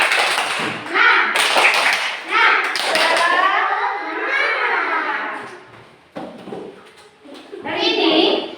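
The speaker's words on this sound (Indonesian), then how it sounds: "Kita tepuk semangat terlebih dahulu." A school class chants loudly together while doing the rhythmic 'tepuk semangat' clapping, with quick bursts of hand claps between lively children's voices.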